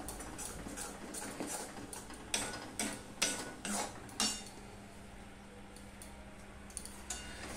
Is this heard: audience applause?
no